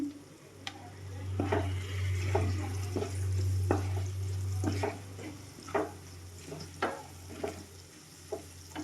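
Turmeric being stirred into a frying pan of cooking food, a soft sizzle under a low steady hum, followed by a series of quick, evenly spaced scraping clicks of a spoon against the pan, no voices.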